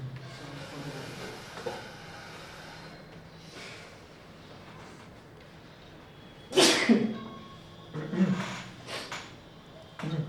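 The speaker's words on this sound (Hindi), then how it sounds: "माइक के फिर भी छींकने की आवाज़ चली जाती है और ये अंदर कैच कर लेता है आवाज़ को" A person sneezes once sharply and loudly in a classroom setting, followed by a couple of smaller bursts of noise, over faint background murmur.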